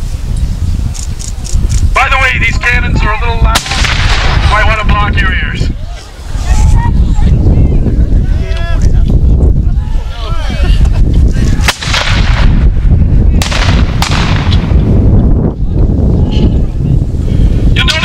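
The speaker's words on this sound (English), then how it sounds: "By the way, these cannons are a little loud. You might want to block your ears." Cannons fire in loud, booming blasts amid the noise of a crowd at a reenactment of the 1781 Battle of Petersburg, Virginia, with wind buffeting the microphone and people talking nearby.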